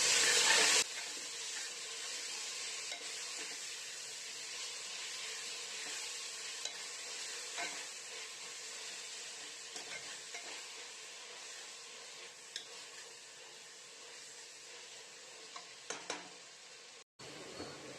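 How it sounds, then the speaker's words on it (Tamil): Onions with salt being sautéed in a pan for tomato rice, with a steady close sizzle and occasional clinks and scrapes of stirring over a long stretch, then a brief pause near the end. "உப்பு சேர்த்துட்டு நல்லா வதக்கி விட்டுக்கலாம்."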